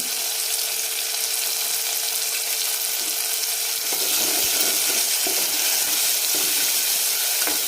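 Chopped tomatoes and salt sizzle and fry steadily in a hot pan on a home village-style stove, a continuous crackling hiss that swells slightly louder partway through with faint stirring, no voices.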